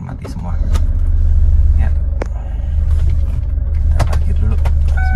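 A 2011 Chevrolet Captiva diesel SUV idles after starting, a loud, close, steady low rumble with a few clicks and knocks on top, while someone speaks over it.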